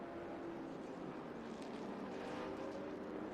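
Trans Am race cars, a Mustang and a Camaro, at Circuit of the Americas, roar steadily at a distance with a broad, continuous engine drone and no clear pass-by peak.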